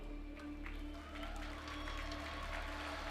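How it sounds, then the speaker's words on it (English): Faint crowd cheering and applause at the ESL One Katowice Major 2018 Dota 2 esports tournament, a steady distant roar that runs under a low electrical hum throughout. "The cheers are there."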